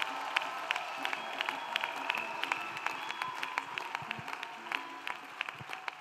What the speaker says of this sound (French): Acclamation. Clap of faith.